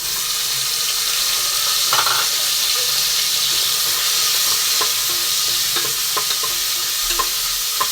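Tomatoes sizzle and fry steadily in a pan, a bright hissing crackle with occasional scraping stirs and small clinks, close by.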